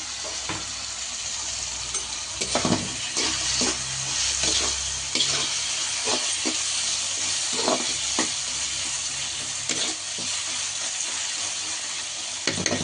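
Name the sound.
tomato pieces with ginger, garlic and cashews frying in a pan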